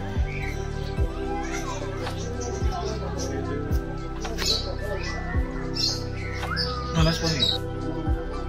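Small birds chirping and tweeting repeatedly at Assam State Zoo, scattered calls over a busy background with voices murmuring nearby.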